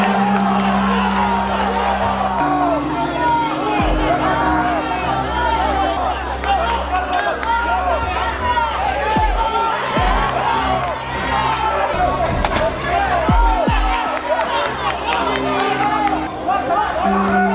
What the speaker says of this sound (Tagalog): Patuloy naman ang sigawan ng mga nanonood sa paligid dahil sa napakainit na laban ng dalawang